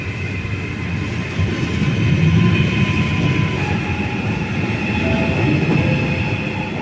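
A Trenitalia Eurocity train from Geneva to Venice rolls into Padua station with a steady low rumble, faint metallic squeals and tonal whines rising over it throughout.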